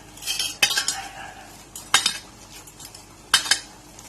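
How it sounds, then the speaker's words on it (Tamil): A knife clinks and scrapes against a plate in three short bursts, spaced about a second apart, cutting a jaggery flatbread into small pieces, close up with quiet background between. "இப்ப நான் இதை சின்ன சின்ன பீஸா கட் பண்ணி எடுத்துக்கலாம்."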